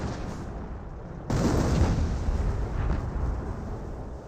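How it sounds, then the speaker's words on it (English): Artillery barrage from a 25-pounder gun in the Company of Heroes game, a dense rumbling mass of blasts that swells suddenly and keeps roaring on loud and close without pause. "we do got another 25-pounder barrage right there"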